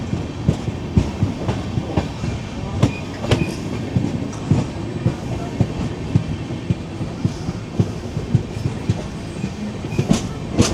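Delhi–Amritsar passenger train rolling slowly on the rails after braking for a caution zone, with a steady rumble and repeated rhythmic clickety-clack wheel beats over rail joints, heard from inside a sleeper class coach.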